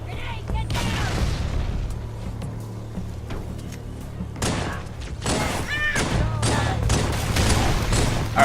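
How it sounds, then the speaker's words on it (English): Grenade blasts and bursts of gunfire ring out in a Halo game, dense rattling shots and heavy booms layered over game noise, with voices talking through the action. "Grenade, get down!"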